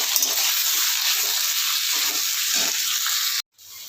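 Potatoes and capsicum fry in a pan for capsicum aloo bhaja, giving a loud, continuous close sizzle that cuts off briefly near the end.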